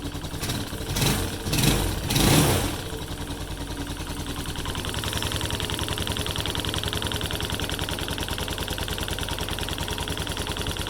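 A Viper 150 motorcycle engine runs after repair to cure a knocking fault, a few loud revs at the start settling into a steady, rapid idle chug that continues evenly to the end, with no talking.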